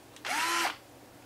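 A 10.8 volt cordless drill whirs briefly in a single short burst, spinning up and stopping within half a second, fairly quiet and alone.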